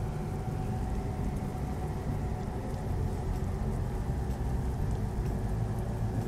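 Rain falls steadily while a truck drives in Euro Truck Simulator 2, a continuous even hiss of rain over the low rumble of the engine, constant and fairly loud with no voices.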